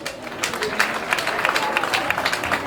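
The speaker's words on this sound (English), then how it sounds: "Clap for your leaders." Crowd applause for newly announced party leaders at a Liberty Party special convention in Montserrado County, a steady dense patter of many hands clapping throughout with mixed crowd noise.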